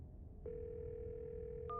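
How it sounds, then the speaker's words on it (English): A steady telephone dial tone in the video game Scarlet Hollow starts abruptly after a short quiet pause and holds unbroken, faint and alone, with a slight shift near the end. "You can hear something drop violently on the other end, and then a dial tone."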